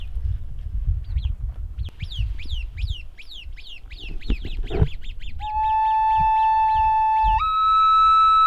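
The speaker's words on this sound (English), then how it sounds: "You can hear the birds right now under the tree" Several birds call in quick repeated chirps and honk-like notes, fairly close, under a tree in the Negev Desert, Israel, followed by a steady high electronic-sounding tone that holds to the end.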